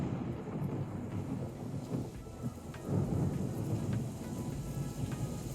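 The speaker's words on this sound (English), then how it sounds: "find comfort in the rain sounds, this does amazing for that too" Steady heavy rain with rolling rumbles of thunder plays as an ambient loop, a dense constant hiss over low booming swells, with no one speaking.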